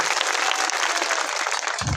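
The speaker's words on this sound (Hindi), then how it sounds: "इनके लिए जोरदार तालियां होनी चाहिए।" Loud, dense applause from a crowd at a political rally in a village, a constitution-themed march, sustained and steady for two seconds with a brief low rumble near the end.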